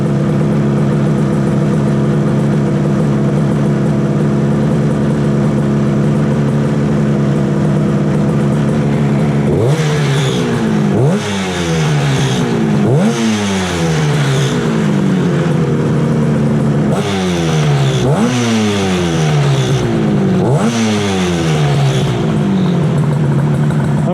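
A 1968 Yamaha YAS1C 125 twin motorcycle engine idles steadily, then is revved again and again, close and loud, each rev rising and falling back with some rattling.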